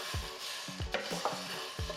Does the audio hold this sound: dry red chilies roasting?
yes